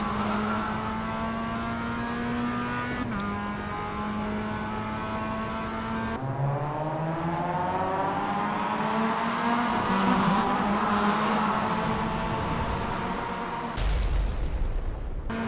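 Race car engines in the iRacing sim game whine and rise in pitch as the field starts, with gear shifts, layered engines and a harsh crash burst near the end.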